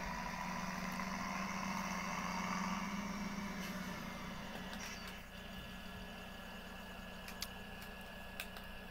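A farm tractor engine idles steadily nearby, a continuous low rumble with a faint rhythmic ticking, dropping slightly in level partway through, with no talk.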